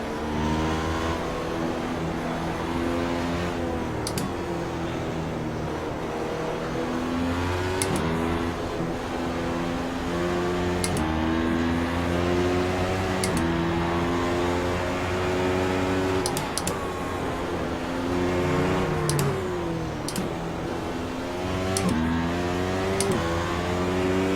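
At Suzuka in iRacing, a race car engine revs high and drops through repeated gear changes over a steady, loud drone, with brief clicks between shifts and no speech.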